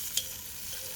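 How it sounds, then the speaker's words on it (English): Onions sizzling in a pan over a campfire, giving a faint, steady frying hiss with one brief clink near the start and no talking. "I don't hear my onions sizzling anymore"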